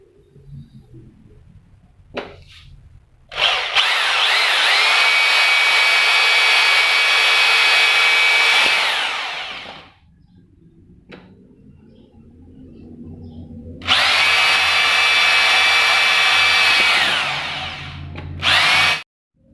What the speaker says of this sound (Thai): ปกติแล้วตัวนี้มันมีไว้สำหรับเจาะปูนนะครับตัวนี้ เดี๋ยวมาเจาะไม้ดู